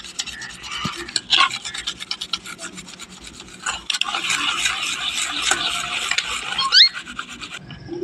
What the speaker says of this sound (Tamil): இந்த செம்மண்ணும் இந்த புளின்னா வேறு எதுவுமே இல்லை இதை வச்சு நான் நல்லா க்ளீன் பண்ணி பார்க்குறேன்